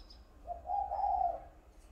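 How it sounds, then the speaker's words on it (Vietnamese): A single soft, low dove coo, rising and holding for about a second, heard close and alone against quiet. "Đôi chim phấn hồng rất đẹp."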